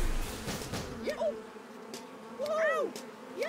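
Flies buzz in the online game Blue Protocol with whiny, wavering drones that swoop up and down in pitch, coming in two or three close passes over a soft background as a person talks.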